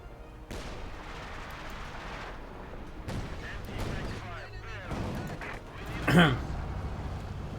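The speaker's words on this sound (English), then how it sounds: "Lots of shots there we go, unleashing the sector assault here." A sector assault artillery barrage in the video game Company of Heroes 2 rumbles with booming impacts and distant blasts, peaking in one loud crack near the end, under continuous commentary.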